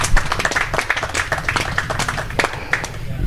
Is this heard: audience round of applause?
yes